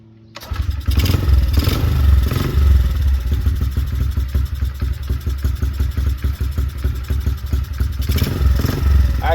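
Motorcycle engine cranked and started after a fuel spill, catching quickly into a loud, close, rapid uneven chugging idle that runs steadily to the end.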